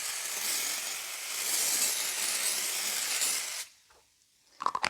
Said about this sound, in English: you just saturate it in the starch spray